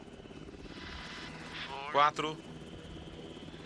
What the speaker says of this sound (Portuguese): O helicóptero está em posição.